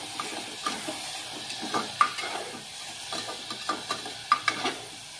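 Spoon scraping and stirring dal with chopped coriander in a pot, with irregular clinks and scrapes over a soft sizzle, fairly close and steady.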